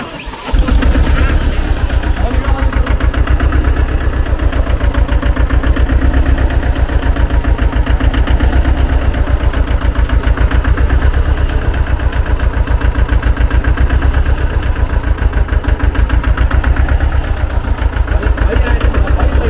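A 4x4 tractor engine runs loudly and close, a steady rhythmic idle that pulses evenly throughout after a sudden start.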